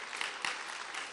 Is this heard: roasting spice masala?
no